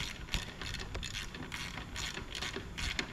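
Bolts being ratcheted into a late-1938 early Ford transmission case, a quick run of close, rapid clicking pawl ticks with a few slightly harder knocks, steady and moderately quiet throughout.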